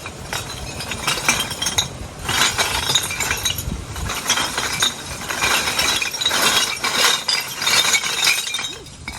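Broken glass clinks and rattles as dumped household garbage is shifted and handled outdoors, with busy bursts of clatter spread across the clip and short pauses between them.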